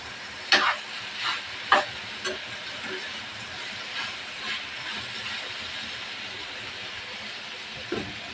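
Teasel gourd (kakrol) fry is turned in a pan, with a few sharp utensil knocks and scrapes over a soft, steady background hiss.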